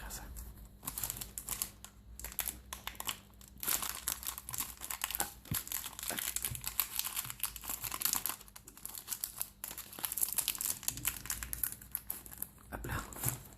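Close crinkling and tearing of a foil Pokémon HeartGold SoulSilver booster pack wrapper, with a steady run of crackly rustles and crunches throughout, a soft voice speaking intermittently underneath.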